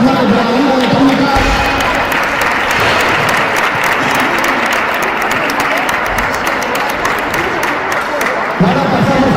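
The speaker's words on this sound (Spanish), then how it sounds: "un aplauso fuerte para los niños de la jornada" Loud, sustained applause from an audience at a weightlifting event's Christmas trophy and technique ceremony, honoring children, with crowd noise and some cheering running steadily through, close and full.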